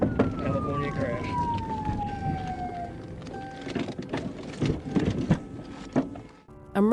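A police siren wails and slowly falls in pitch amid busy street noise at a California crash scene, followed by scattered thumps and clatter.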